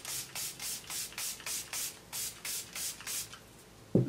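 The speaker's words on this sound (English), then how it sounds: "So I'm just going to finish off my face and set it with the Milani Make It Last setting spray." Milani Make It Last setting spray misted close up in about ten short, even hissing bursts in a regular rhythm, followed by a brief soft knock at the end.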